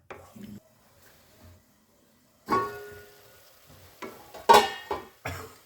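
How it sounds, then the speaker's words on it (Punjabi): Masala gravy cooking in ghee in a pan for a wedding-style matar kaju mawa sabzi, with intermittent stirring scrapes and clinks against the pan over a soft sizzle, louder bursts toward the end. "ਦੇਖੋ ਆਪਣੇ ਮਸਾਲੇ ਨੇ ਨਾ ਘਿਓ ਛੱਡਤਾ ਤੇ ਮਸਾਲਾ ਬਹੁਤ ਵਧੀਆ ਭੁੱਜ ਗਿਆ"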